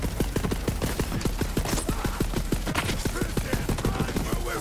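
Rapid, evenly spaced gunfire from a Borderlands 3 firefight, a steady burst of sharp shots running the whole time at close, loud level.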